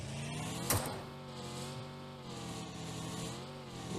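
A vehicle engine in PUBG Mobile drones steadily and loudly at close range while driving, with one sharp thump early on and small shifts in pitch as the throttle changes.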